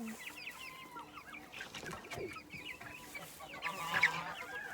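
Cream Brabanter chickens, a Dutch breed, cluck and chatter nearby in a series of short, soft, irregular calls, with a few louder squawks toward the end.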